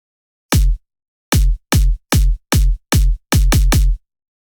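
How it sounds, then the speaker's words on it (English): An electronic music drop built on an irregular kick drum pattern: deep, punchy, isolated kicks in a stuttering rhythm, one alone and then a rapid cluster of seven or eight hits, loud and dry with silence between them. "I did this crazy kick pattern"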